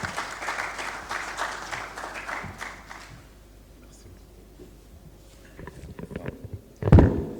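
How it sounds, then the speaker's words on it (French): Applause in a formal hall as a speaker is called to the podium at a bond market event, steady clapping for about three seconds, then fading into low room noise, shuffling and a loud thump near the end. "Tout de suite, c'est à vous sous vos applaudissements,"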